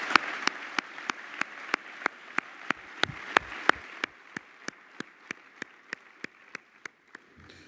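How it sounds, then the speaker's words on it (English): Steady, evenly spaced claps at a graduation ceremony, crisp single strikes repeating in a slow regular rhythm over a faint murmur of a hall, fairly quiet and distant. "Let's give them a hearty round of applause for all that they've done."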